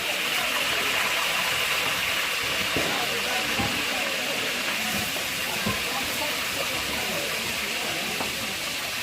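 Food sizzles hard in a wok, a dense, continuous loud hiss that fills the whole stretch without pause, with faint clatter and muffled voices underneath.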